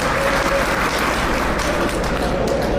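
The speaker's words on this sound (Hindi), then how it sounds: "ताली बजाओ इस बात" A political gathering's audience breaks into steady, dense applause, many hands clapping together at close range and holding loud throughout with no pause.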